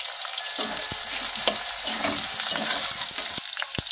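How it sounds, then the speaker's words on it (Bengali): Chopped onions frying with mutton in oil, a loud close crackling sizzle with a few quick stirring clinks over a few seconds. "পেঁয়াজটাকে আমরা ভালো করে কিন্তু ভেজে নেব বন্ধুরা।"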